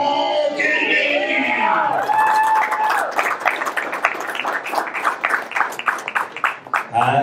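Sustained applause from the crowd at a masters powerlifting world championship bench press medal ceremony, starting under a loud announcer's voice and music, then a steady run of dense claps that swells and carries on to the end.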